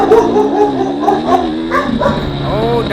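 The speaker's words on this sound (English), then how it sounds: "Oh, dogs are going crazy over here." Several dogs bark and yip excitedly near a muddy, rainy hare scramble race trail, a run of overlapping barks and whines at close range.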